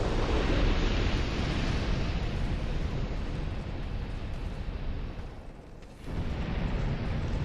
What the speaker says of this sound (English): you don't want to hit these guys because they explode